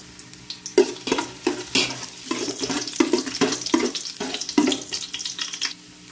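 Ginger fries in cooking oil for native chicken adobo, sizzling close by under repeated stirring scrapes and clatters that come in an irregular rhythm; no talk.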